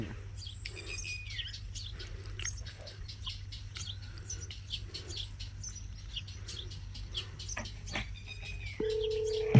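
A mobile phone rings with a chirpy, bird-like tune that repeats over steady low hum and ends with a sustained electronic tone.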